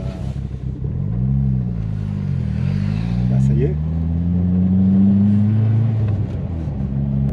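A Ford Fiesta RS Turbo engine revs and rumbles steadily, its pitch rising and falling through several sustained swells, close and fairly loud, while a person speaks briefly over it.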